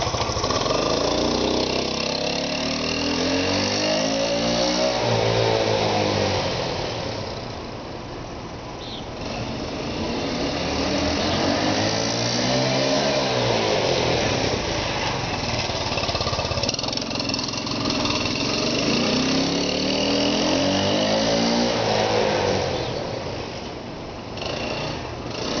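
A 1984 Honda CT110 trail motorcycle's small single-cylinder engine starts and runs, its note rising and falling repeatedly as it revs and rides off, steady and fairly loud with no talking.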